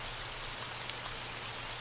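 Dense, unbroken rainfall in an RPG Maker horror game, a loud, uniform wash of patter that stays constant from start to finish with no talk over it.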